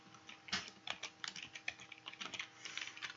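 A computer keyboard is typed on in an uneven run of soft, close key taps lasting a few seconds, quiet overall and without speech.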